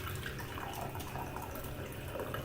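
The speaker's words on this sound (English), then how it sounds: "so I can pour liquid off back into the cup" Liquid is poured back into a cup, giving a continuous close trickle and splash of moderate loudness with no talking over it.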